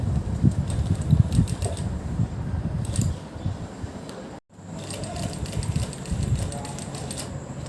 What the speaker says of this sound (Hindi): इस तरह से हम अपने पूरे पोंचे की कटवर्क पर साथ साथ सिलाई लगा लेंगे।